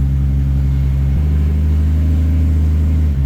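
A 1965 Mercury Comet engine running loudly and steadily while being shifted through its gears, with a deep droning rumble and a brief change in pitch as it drops into another gear.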